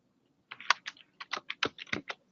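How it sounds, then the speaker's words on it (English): Fast, uneven keystrokes on a computer keyboard as a name is typed into a scheduling program, about a dozen close, crisp clicks in quick bursts with short pauses, no talking. "you can just start typing in the name"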